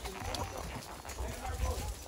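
Horses walking on a hill trail toward a waterfall near Brotas, São Paulo, with soft steady hoof clopping under a constant low rumble of movement and wind, and a voice talking faintly.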